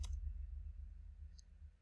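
A computer mouse gives a couple of faint, sharp clicks, one at the start and one soon after, over a low hum with no talking.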